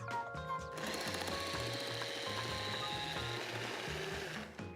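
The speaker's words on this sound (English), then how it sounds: "I'm gonna grate some carrots. Lid on top, carrot inside, mixer on top." A Bamix hand mixer fitted with a grating blade shreds carrots under a lid, giving a steady, loud close-up motor whir with a rhythmic chopping pulse throughout.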